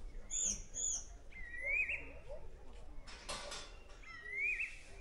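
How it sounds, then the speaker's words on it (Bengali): Birds calling in quiet hills: a few clear, whistled chirps and rising calls ring out one after another at moderate distance over a hushed background, with a brief burst of rustling in the middle. "এই পাহাড়ে দাঁড়িয়ে পুরো নিস্তব্ধ জায়গায় এরকম পাখির ডাক শোনা কিন্তু একটা অন্য রকম অনুভূতি"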